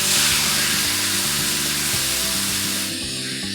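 A marinated salmon fillet sizzles loudly and steadily in a hot pan on high heat, with faint tapping and shifting underneath. The sizzle eases slightly toward the end, and no voices are heard.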